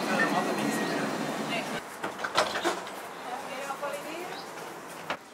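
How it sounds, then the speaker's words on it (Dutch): A tram pulling in at a stop on a French holiday, with a rumbling, rattling approach that fades, a few sharp clunks and hisses, and people talking nearby. "En de tram is daar, hopla."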